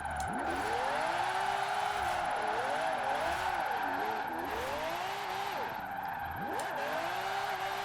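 Tyres of a McLaren 600LT squeal continuously as the car slides sideways in Forza Horizon 4, the pitch bending and wavering over a loud engine drone.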